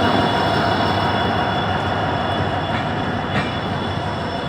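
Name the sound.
passing train on railway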